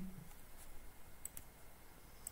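Computer mouse clicks and keyboard taps sound very faintly, a few sparse sharp ticks over a quiet room with no speech.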